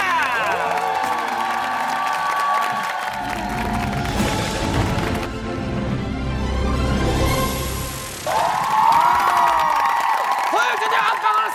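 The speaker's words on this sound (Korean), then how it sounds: "세림에게 여러분들의 김치 박수가 필요합니다" Loud studio audience applause and cheering on a Korean TV talent show, with whoops and shouts swelling in bursts around a presenter's voice.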